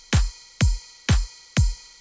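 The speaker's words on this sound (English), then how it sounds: "I can paint the ride like this so that it's sitting on the same time as the kick" Four evenly spaced hits, each a deep kick-drum thump with a bright cymbal wash over it, steady and close in a studio, with no voices.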